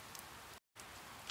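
Steady rain hiss from the Persona 4 video game, a soft continuous wash with a brief silent gap in the middle.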